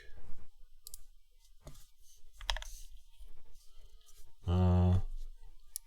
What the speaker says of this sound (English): mouse clicks at keyboard level